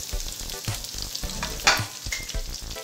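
Mustard seeds, cumin, dried red chillies and onions fry in hot oil for gongura rasam. A close, crackling sizzle is broken by rhythmic stirring scrapes and one brief sharp pop. No one speaks.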